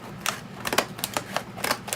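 Scallop scissors cutting through craft paper make a series of about eight crisp, close snips in an uneven rhythm, each a short papery crunch.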